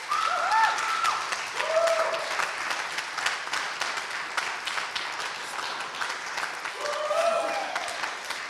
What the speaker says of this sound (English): It's the awkward bit where I wait while you clap so I can say something else